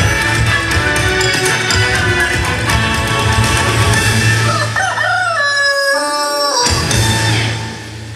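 A rooster crows repeatedly over loud background music and sound effects at a staged Indonesian folk-tale show at Taman Mini Indonesia Indah; the rising, wavering calls stand out before a brief pause and the music resumes.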